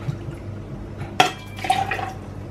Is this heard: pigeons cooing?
no